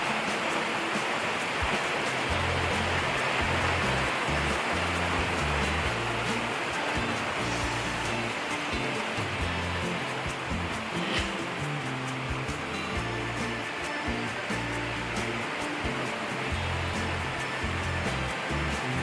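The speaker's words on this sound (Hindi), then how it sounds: "आवाज तो आ रही, टम टम टम टम टम उधर से आएगी। ओ तेज बारिश।" Heavy rain pours down in foggy hill weather at Murree, Pakistan, a loud, continuous, close hiss and patter that stays dense and unbroken throughout, with no talk.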